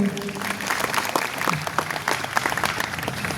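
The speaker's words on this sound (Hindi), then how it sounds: "तो ऐसे ही हमारी युवा टीम उसके लिए एक बार ताली" An audience claps for a youth team at a gathering, lively steady hand clapping close and fairly loud, with a few voices faintly underneath.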